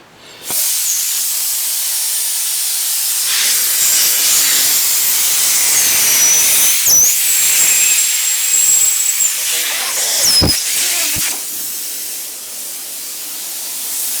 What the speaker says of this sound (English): That's just a hole in my airline. It's just sprung a leak.